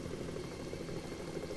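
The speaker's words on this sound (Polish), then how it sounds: "Ahahaha, helikopter!" A helicopter engine drones steadily in the video game Alone in the Dark 5, a faint low rumble with no other sounds over it.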